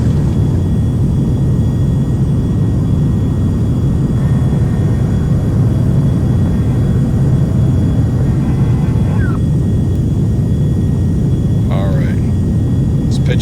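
Beechcraft Premier IA business jet in X-Plane 11 on its takeoff roll, a steady loud low engine roar filling the whole stretch with brief faint chirps on top.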